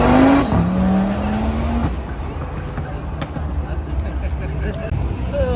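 An MTM-tuned Audi RS3 drives past with a rising engine note that fades into a broad tire and road rumble, fairly loud and close, with people talking over it.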